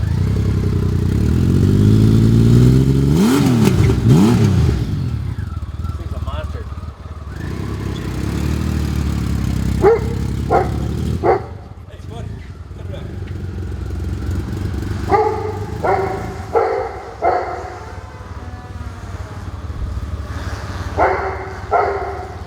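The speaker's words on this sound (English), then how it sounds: "Listen to the exhaust note on this thing. Listen to the exhaust on the 6-cylinder." A 1997 Honda Valkyrie GL1500T2 Tourer with a six-cylinder engine revs loudly up close, rising and falling through a few throttle blips, then settles into a rough, clattering idle with scattered sharp bursts.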